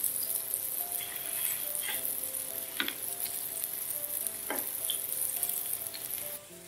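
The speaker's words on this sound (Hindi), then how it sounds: "और इनको फ्राई कर लेंगे।" Kebabs frying in oil in a pan over a medium flame, a steady close sizzle with occasional scraping, rattling touches as they are stirred.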